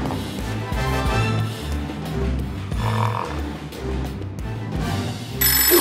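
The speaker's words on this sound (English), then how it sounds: "That's the phone." A telephone rings during a church kids' service skit, a repeated ringing tone over a busy, cluttered background with music-like sounds, fairly loud and close.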